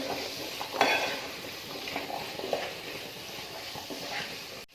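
Potato and carrot get stirred into a curry in a pot, with a spoon scraping and clinking against the metal over a soft background hiss, close and fairly quiet, no talk.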